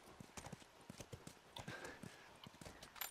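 Horse hooves clip-clopping in The Last of Us video game, a quiet, steady walking rhythm of distinct hoof knocks repeating evenly throughout.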